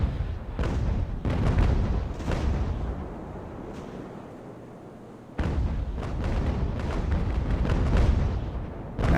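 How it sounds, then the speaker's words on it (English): Age of Sail warship cannons fire round shot in a rolling barrage of booms and gunfire, thundering densely, then dropping into a quieter lull before another heavy volley of repeated blasts. "Who's still shooting round shot?"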